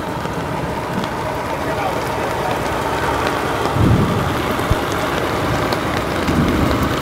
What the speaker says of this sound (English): After hours rain shower.